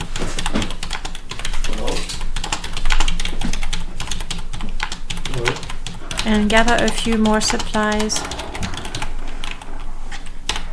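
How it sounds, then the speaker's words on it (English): Someone typing on a computer keyboard with two fingers and an occasional thumb, a continuous run of close, uneven clicks and taps heard under someone speaking briefly. "I know I don't type fast, but if you keep in mind I'm typing with two fingers and the occasional thumb"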